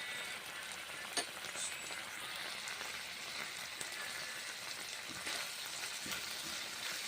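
Spiced beans with white sesame being stir-fried in a pan, giving a steady, close crackling sizzle with a few louder pops and scrapes from stirring, no voices.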